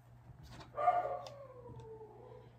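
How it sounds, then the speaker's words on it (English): A dog lets out one drawn-out, howling bark that slides downward in pitch, fairly faint and a little distant over a low steady hum, with no speech. "And a dog barking."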